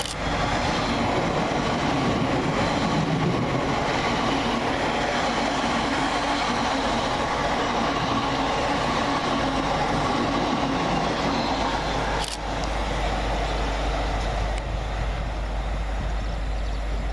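A Class 345 electric train, unit 345039, runs empty through Burnham station without stopping, a loud, steady rumble and wheel roar lasting the whole stretch, with a brief clank near the end.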